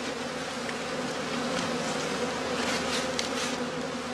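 A weak honeybee colony in a traditional straw skep hive on the heathlands of northern Germany gives off a dense, continuous buzzing hum, close and steady throughout, with no voices.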